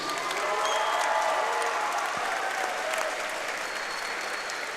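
A fight crowd at an RFO Big Guns MMA event applauds the fighters Roger Rice and Justin Meese, dense sustained clapping at even loudness with faint cheering mixed in throughout.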